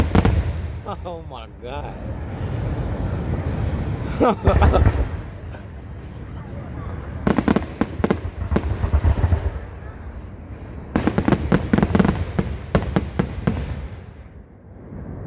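Fireworks finale at a Brevard display, a rapid barrage of loud booms and crackling bursts arriving in dense clusters, with excited voices reacting over the explosions.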